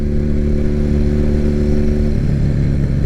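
A 2006 Triumph Bonneville motorcycle engine, bored out to 903 and ported, with Keihin carburetors, idles in a loud, steady, throaty rumble close by, its pitch shifting slightly partway through.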